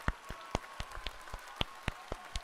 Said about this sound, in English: Let's give a little round of applause for our dear Ice.